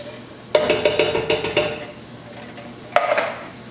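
An undrained can of corn goes into a pot of taco soup with a quick series of metallic clanks and scrapes against the rim, followed a moment later by one more sharp clink, close and clear with no talking.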